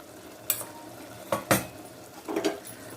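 A spoon stirs meal maker curry with coriander and garam masala in a pan, giving a few distinct scraping, clattering strokes over a faint background hiss.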